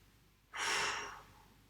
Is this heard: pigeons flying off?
no